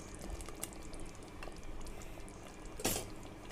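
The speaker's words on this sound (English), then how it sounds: "So the gravy is bubbling and the oil is separated." Creamy chicken kabab gravy simmering in a pan, a steady soft bubbling and sizzling with a brief louder splutter near the end, no voices.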